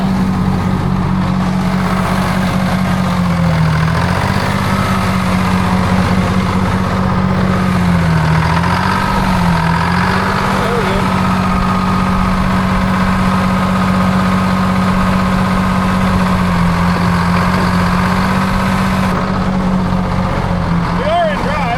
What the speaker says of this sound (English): I think it's just slipping the clutch.